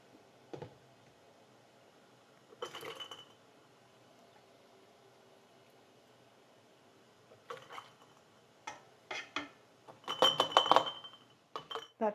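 Glass canning jars clink and tap as homemade salsa is ladled in and lids go on for small-batch steam canning, with scattered single knocks early and a quicker cluster of bright clinks near the end.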